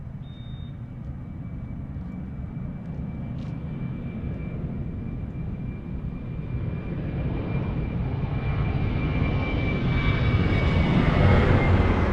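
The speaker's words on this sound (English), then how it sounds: "Do you like the sound of these 737s from here?" A Boeing 737 airliner at Lisbon Airport produces a low engine roar that builds gradually from fairly distant to louder and closer, with a faint steady whine above it and no voices.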